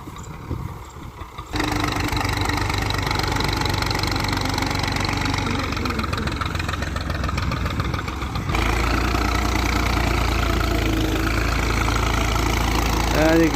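A tractor engine runs steadily during carrot harvesting in the field, a loud continuous mid-to-low drone that steps up in intensity partway through, with no talk over it.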